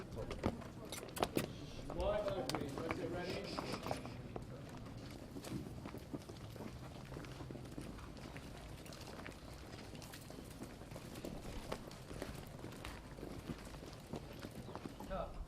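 Horse hooves clip-clop steadily at a walk amid a busy outdoor background, with people talking throughout.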